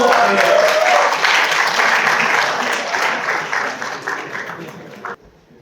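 A church gathering applauds to welcome a speaker forward, dense sustained clapping from a roomful of people that fades out near the end, with voices faintly under it.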